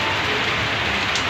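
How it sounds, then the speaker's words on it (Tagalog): Heavy rain falls outside in a dense, continuous hiss, loud and unbroken, with no voices. "Grabe na yung lakas ng ulan sa labas."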